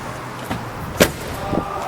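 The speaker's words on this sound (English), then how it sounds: "Doors open and close beautifully." Doors on a Mercedes-Benz W126 500SEL saloon opening and closing, a few short solid clunks spaced about half a second apart, with one sharper latching thud in the middle.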